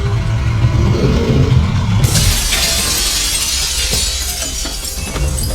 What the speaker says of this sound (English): The third attempt to break the glass was successful.